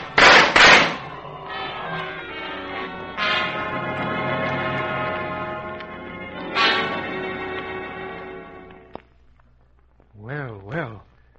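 Gunshots in an old-time adventure radio drama about a pirate island, loud sharp reports at the opening and again midway, each trailing into ringing tonal sound, with dramatic voices and music around them.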